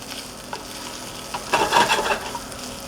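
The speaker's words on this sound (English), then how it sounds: "Sizzling away, that's exactly what we want." Chorizo sausage sizzling in a hot pan, a steady crackling fry with a louder burst of spitting and stirring in the second half, alone without talk.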